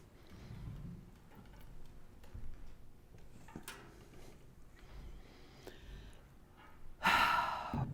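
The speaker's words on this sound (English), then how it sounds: "I invite you to just take a deep breath." A deep breath drawn during a guided breathing exercise at a Lenten spiritual talk: a brief, loud, airy inhale near the end, after a quiet stretch of faint room sounds.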